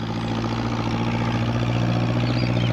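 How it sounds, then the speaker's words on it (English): Tractor engine running on a farm, a steady low droning rumble with a regular throb, fairly close and constant without pause. "What with the noise of the tractor, Peter Fogg didn't hear Pat's call."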